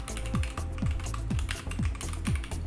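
Keys tap steadily on a computer keyboard while text is entered into a spreadsheet, with a dense run of clicks over a regular, repeating background pattern.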